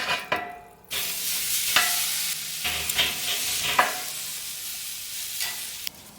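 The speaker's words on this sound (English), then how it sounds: "let's give these bad boys a sear" Filet mignon steaks sear in a hot pan, a loud broad sizzle that starts abruptly and holds steady with occasional sharp pops and spatters, close by with no talking.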